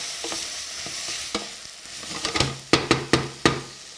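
Sardines with garlic and carrots are stirred in a frying pan over a steady sizzle, with soft scraping that builds into several sharp utensil clacks against the pan, close and fairly loud.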